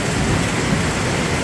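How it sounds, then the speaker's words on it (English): Steady, loud rainfall hisses close by, a dense wash with a low rumble underneath, suggesting distant thunder; no voices. "But this is a life-saving rain right now."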